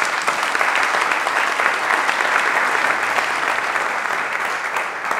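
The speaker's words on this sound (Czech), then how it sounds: "děkujeme za srdečný potlesk" Warm, dense applause from a live audience at a Czech talk-show event, steady and close throughout with no speech over it.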